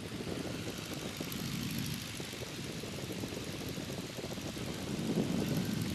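Steady, loud propeller drone of a de Havilland Tiger Moth biplane engine in flight, heard from inside the open cockpit with constant wind rush and a slight swell near the end.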